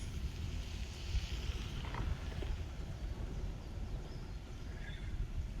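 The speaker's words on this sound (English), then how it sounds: "You can hear the diesel engine on that thing just chugging along." Diesel engine of a Chinese fishing boat chugging along, a faint, steady low rumble under wind noise on the water.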